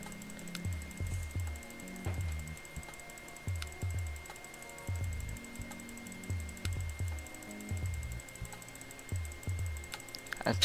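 Rapid bursts of mouse clicking during Roblox play, small close clicks arriving in quick repeated clusters with brief pauses between them, with no talking.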